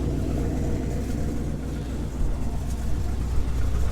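A warm GMC 2500 pickup with a 4.8 engine idles, a steady low rumble with a faint, continuous higher whine running over it throughout.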